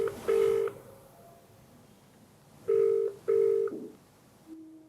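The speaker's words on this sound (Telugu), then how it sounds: "సరే, అయితే మరి బిందుకు కాల్ చేయనండి" A telephone call being placed: short dial beeps, then two paired electronic ring tones of a phone ringing on the line, clear and close with quiet gaps between.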